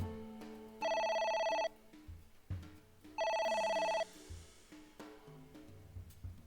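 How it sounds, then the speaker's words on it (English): A telephone rings in the video game AI: The Somnium Files, two loud electronic bursts of rapid ringing separated by a pause, with quieter game sounds around them. "It won't stop ringing."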